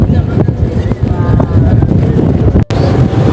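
A ferry ride to Darling Harbour in Sydney, with loud wind buffeting the microphone over the rumble of the boat's engine and the rush of water, a brief dropout near the end.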